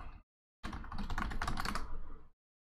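Close computer keyboard typing: a brief burst of keystrokes, a short pause, then a quick run of rapid clicking that stops abruptly into silence.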